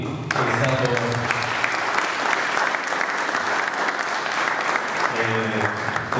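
Sustained applause for an honoree at an award ceremony in a palazzo in Mussomeli, a dense, loud wash of clapping from a seated audience lasting several seconds, with speech briefly at the start and end.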